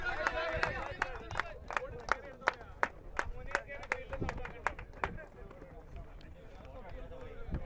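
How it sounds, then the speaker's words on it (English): A scattering of handclaps rings out for the man of the match at a cricket grand final, the claps sharp and uneven over about seven seconds, mixed with steady crowd chatter and a voice talking. "Please give him a round of applause."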